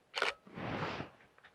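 A camera shutter fires outdoors in autumn botanical gardens with a slow shutter speed, giving a sharp opening click followed by a longer mechanical whir and a faint closing click, close and quiet with no talk.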